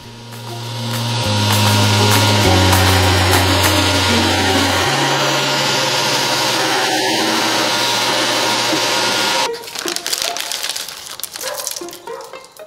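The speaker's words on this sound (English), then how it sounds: "get this all sanded down" Power sander working on the wooden parts of a DIY climbing triangle, a loud continuous whirring hum with shifting pitch that stops abruptly near the end, followed by quieter handling noises.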